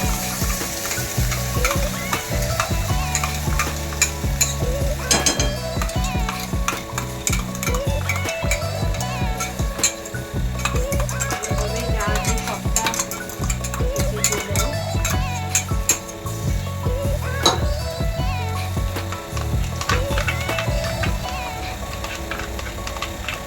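Spinach paste being stirred into sautéed masala for palak paneer in a pan on low heat: continuous sizzling with steady scraping strokes and occasional utensil clinks against the pan, close up, with no talk.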